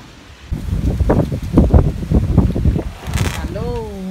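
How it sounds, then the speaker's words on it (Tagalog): Wind gusting across a small farm, with rustling and buffeting noise rising and falling near the microphone for several seconds, ending with a brief high tonal sound. "Ayan, ang hangin."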